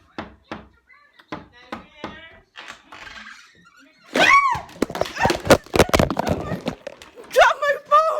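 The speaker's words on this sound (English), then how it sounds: "Okay, knock." Several sharp knocks sound on a door, a quick series of close raps. A burst of loud voices, exclaiming and laughing, follows the knocks.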